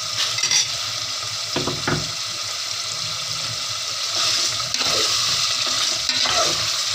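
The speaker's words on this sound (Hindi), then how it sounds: "इसे थोड़ी देर और मैं भुनाई कर लूँ" Tomato masala for bhindi gosht roasting in a pan, with soft continuous sizzling and repeated scraping strokes of a spoon against the pan, close and steady with no talk.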